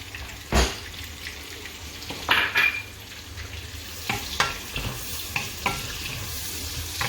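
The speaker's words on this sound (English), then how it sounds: "So I'm frying my shallot for probably about 1 to 2" Shallots sizzle in hot oil with soft crackling, punctuated by clinks and scrapes of a utensil stirring the pan.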